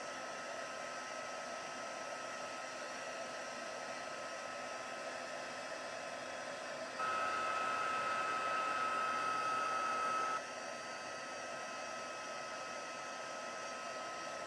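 A heat tool blows steadily over old embossing powder on cardstock, a constant whooshing drone that jumps louder and slightly higher for a few seconds midway, then settles back to its earlier level.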